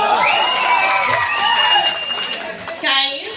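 A crowd at an Odia stage show breaks into applause and cheering with whoops, loud and close, over sustained music, then a louder burst near the end.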